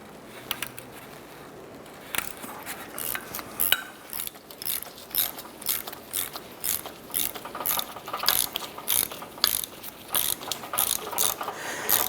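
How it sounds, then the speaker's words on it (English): A 14mm gear wrench ratcheting on the top strut nut of a 2008-2012 Honda Accord, a rapid close clicking that comes in repeated bursts with short pauses between strokes. "Now we're using a 14mm gear wrench on the top nut."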